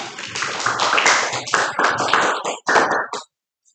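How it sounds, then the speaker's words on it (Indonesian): Primary school pupils in a classroom clap for group 3 after their science result, a burst of many hands clapping close by in loud uneven surges that break off abruptly and fall silent. "Bagus, tepuk tangan dulu"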